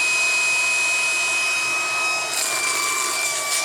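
A small handheld induction heater for freeing seized nuts and bolts runs its cooling fan, a steady close whirring hiss with a faint tonal whine, shifting slightly partway through as air is drawn in.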